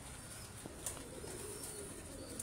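Pigeons cooing softly in a loft among pigeon-keeping birds, a few low coos and faint chirps over steady background noise, no talking.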